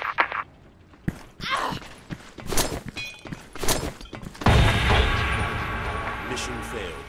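Gunfire and artillery-like blasts in a military video game, sharp thuds and bursts scattered irregularly, then a dense sustained barrage roaring from midway on, with a voice briefly heard amid the noise.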